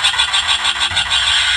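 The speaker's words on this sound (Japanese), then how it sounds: "ファルコン号のブラスターの音だね" Playing from a Star Wars Hot Wheels flight controller toy, the Millennium Falcon blaster effect is a loud burst of rapid, rhythmic electronic pulses that then settles into a sustained noisy roar, heard alone.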